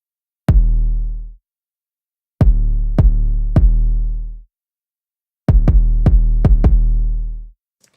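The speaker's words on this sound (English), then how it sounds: "just punchy kick that cuts through" Tight, punchy layered kick drum from a music production session, struck alone in separated groups: one hit, then three, then five, each loud and booming with a short decay, no voices.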